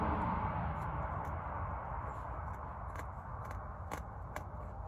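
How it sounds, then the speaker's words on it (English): Scissors snip carpet inside a van in short, irregular clicks through the thick material, faint against a steady low rumble of background noise. "I have the scissors because now I have to cut some carpet."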